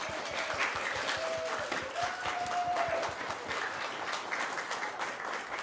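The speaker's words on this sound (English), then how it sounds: "Please give them a round of applause again." A camp crew receives sustained applause from a live studio audience, steady dense clapping filling the room throughout with a few faint whistles.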